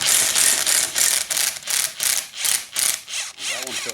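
A hand ratchet clicks steadily as it backs out 10 mm top case half bolts on an engine build, with about eight rapid bursts of ratcheting in close, loud succession.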